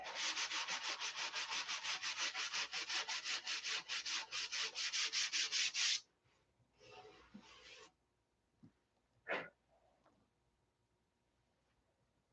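Rapid back-and-forth strokes of sanding on a boat hull with a semi-gloss finish keep a dense, raspy rhythm for about six seconds, then stop; a few short scrapes and a brief rub follow in near silence.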